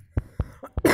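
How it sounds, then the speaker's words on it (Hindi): A man coughs in a short burst of four or five dry, close coughs in quick succession, ending with a harsher, throatier rasp. "खांसी हो गया यार"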